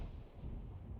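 A single distant artillery round booms out, a low rumbling thud that rolls and fades over about a second with some wind-like noise.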